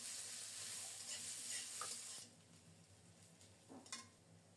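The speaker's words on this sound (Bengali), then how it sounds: "পেঁয়াজ সহ ফোড়নটাকে লালচে করে ভেজে নেব।" Chopped onion frying in oil with whole cardamom, cumin, cinnamon and bay leaf, a steady near sizzle that drops quieter partway through, with a few soft stirring scrapes and no talk.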